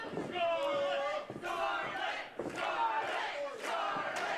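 Wrestling crowd chanting and cheering for Scarlett in rhythmic, repeated swells of voices, fairly distant and moderately loud, rising and falling in a steady pattern.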